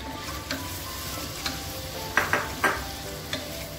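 Sliced onions fry in hot oil for mutton rava biriyani, a constant sizzle broken by several quick stirring scrapes, with a cluster of louder ones near the end.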